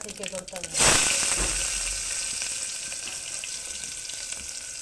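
Mustard seeds, cumin and onions hitting hot oil for methi rice, a sudden loud burst of sizzling that settles into a steady hissing fry, with a voice briefly heard at the start.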